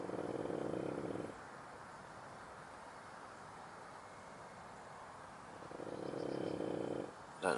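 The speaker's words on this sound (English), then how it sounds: "she's snoring her head off" A sleeping dog named Sky snores beside a carp fishing swim at Kirk Hallam, with two long, loud rasping snore breaths at the start and end and a quieter pause between them.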